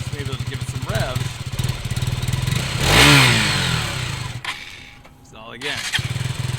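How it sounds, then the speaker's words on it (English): A KTM Duke 200 single-cylinder motorcycle engine idles and is given several revs, one strong blip swelling and falling away before the engine dips and picks back up; a voice is heard over it. "So I'll just maybe give it some revs."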